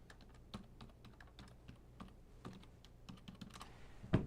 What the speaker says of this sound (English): Got to put my 3 passwords in and a pint of blood, and then the system will be ready to go.